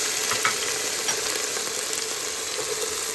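Onions hitting two tablespoons of hot olive oil for a West African peanut soup, giving a dense, even sizzle, close and steady, with a few faint clicks from the pan.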